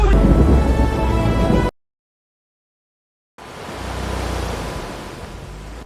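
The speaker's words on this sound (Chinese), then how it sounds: "外面下着暴雨不能出海" Heavy rainstorm outside a house in a coastal fishing village, a dense roaring hiss of downpour that cuts out abruptly to silence for a couple of seconds and then resumes as a steady broad wash.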